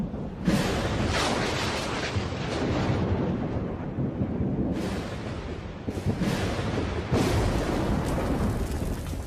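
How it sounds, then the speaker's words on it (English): Deep, sustained rumbling thunder from a thunderstorm over the Australian bush, loud and continuous with surging low roars and brief cracks, no voices. "All this takes is a thunderstorm."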